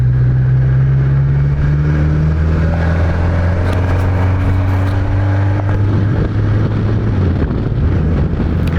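A BMW K1200LT touring motorcycle rides along, its engine droning loudly and steadily and its pitch rising through the gears under heavy wind rush, with no talk.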